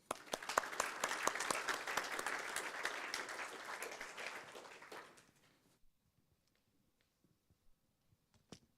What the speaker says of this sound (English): join with me and with a round of applause to thank the speakers who have presented tonight